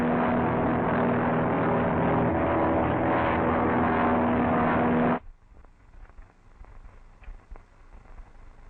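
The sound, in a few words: seaplane propeller engine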